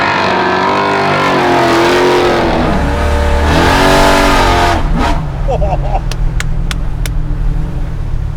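An 850 hp Chevelle with a 632 cubic inch V8 revs and accelerates loudly up close with steady engine roar, while people talk and exclaim over it.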